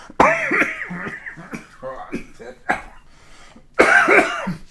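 Several harsh coughs burst out in quick succession, with a short throat-clearing in between and another coughing fit near the end.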